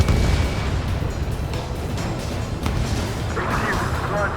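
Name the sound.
missile explosion destroying enemy vessel in Ace Combat 7 video game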